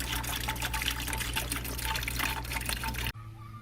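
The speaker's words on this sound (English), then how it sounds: "we're just going to pour the product right into the container here" RMR 86 mold remover pours in a steady splashing stream into a 1 gallon sprayer for about three seconds, then stops abruptly.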